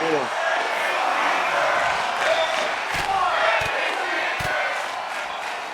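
A wrestling crowd at a Monday night show chants in loud, rhythmic unison, with scattered sharp impacts and shouts cutting through the din.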